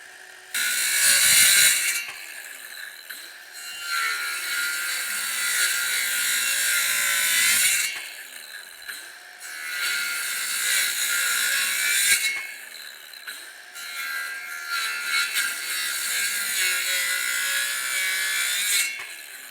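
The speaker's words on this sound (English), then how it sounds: "Now we'll get our skill saw. So what we'll do is we'll cut a slot along each one of the lines, and then we'll cut multiple slots." A circular skill saw cuts slots into wood for installing corral solar lights, with three long loud buzzing cuts separated by short pauses and brief spin-downs, close and without speech.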